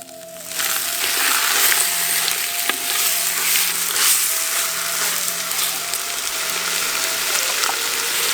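Minced goat meat hitting a hot pan with ground masala, a loud, steady, dense sizzle and crackle lasting throughout, close and without speech.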